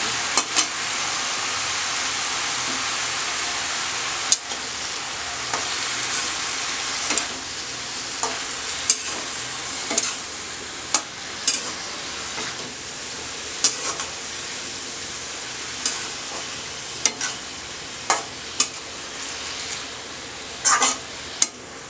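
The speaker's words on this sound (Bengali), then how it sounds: "এবার একটু নাড়ছি" Fresh green spinach frying in a pan while being stirred, a constant hiss of sizzling with frequent sharp scrapes and taps of the spoon against the pan, close up and steady.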